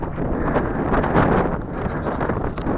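Strong wind buffets the microphone on a hiking trail between Aszófő and Balatonfüred in Hungary, a loud, close, continuous rumbling roar with fluttering gusts and no voices.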